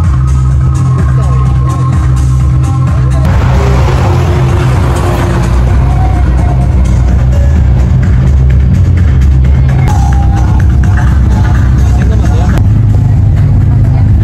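A Porsche sports car engine roars loud and constant throughout a fast lap at Yaguarcocha, Ecuador, with a steady, dense drone that swells slightly as the car pulls, while voices can be heard beneath it.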